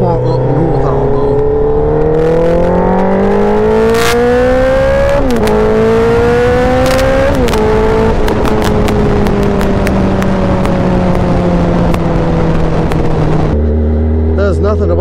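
A motorcycle engine loud and close, climbing in pitch through the gears with abrupt drops at each shift, steady wind rush underneath, then settling to a lower idle near the end.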